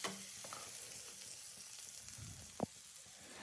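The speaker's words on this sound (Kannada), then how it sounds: "ಮತ್ತು ಟೊಮ್ಯಾಟೊ, ನೋಡಿ ಹಿಂಗೆ ಕೆಂಪಗಾಗೋ ಥರ ಚೆನ್ನಾಗಿ ಹುರ್ಕೊಬೇಕು" Tomatoes frying in a pan with ginger for a country-style chicken sambar, a soft continuous sizzle with light stirring and one sharp clink near the end, no talk.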